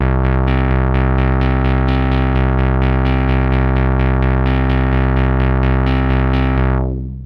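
Retro synth notes with an added noise source and slight pitch variation play in a steady, rapid sequence for about seven seconds. The tone is loud, buzzy and distorted, with no one speaking, and it fades at the end.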